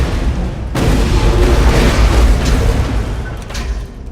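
Rocket blasts in Borderlands 2 hit as heavy, rumbling booms, one sharp onset followed by sustained loud explosive roar that slowly fades.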